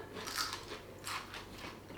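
Close, crisp crunching bites into a crunchy baked vegetarian frittata piece, two distinct bursts about 0.7 seconds apart followed by softer chewing crunches.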